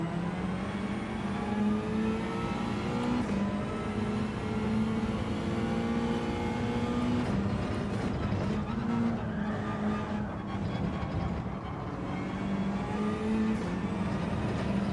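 Car sliding sideways in Gran Turismo 7, a steady loud engine drone with shifting revs and tire noise running throughout, no voices over it.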